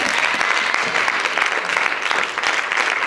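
A church congregation applauds during a Christian worship service, a dense, steady roar of many clapping hands that holds at an even loudness throughout, with no voices standing out.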